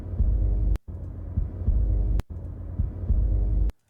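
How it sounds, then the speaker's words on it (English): Slow, deep heartbeat thumping in a World of Warcraft trailer, three heavy throbbing pulses with low rumbling hum between them, each cut short by a sharp transient, no talk. "kind of have the sound effect of like a heartbeat, like the heart of this world, right?"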